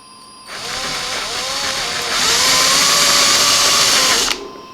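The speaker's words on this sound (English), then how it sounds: "I'm gonna get a big drill bit. I'm gonna make a bigger hole" A power drill fitted with a big bit bores a larger hole through a pilot hole in a Philips DreamStation 1 CPAP machine, its motor whining steadily then rising in pitch and loudness before stopping abruptly.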